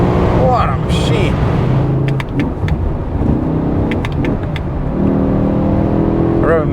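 High-mileage BMW E60 M5 with its V10 engine, loud and close from inside the car, a dense engine roar rising and falling with revs through gear changes, with brief clicks over the top.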